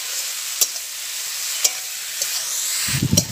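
Fried potatoes and vegetable stalks sautéing in a spice paste: a loud, steady hiss of sizzling with a few sharp utensil clicks and a scrape of stirring near the end.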